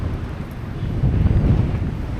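Gusty wind buffets an outdoor microphone on a walking trail near the water at high tide, a steady low rumble that swells louder midway through, with no voices.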